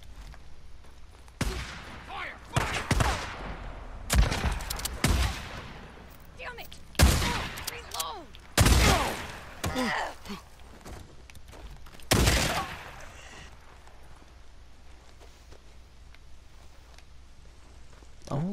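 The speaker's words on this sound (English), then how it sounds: "A submachine gun or something, like." Bursts of submachine gun fire in Days Gone come in several sharp, loud volleys spread over the clip, with quieter gaps between them and some low background ambience.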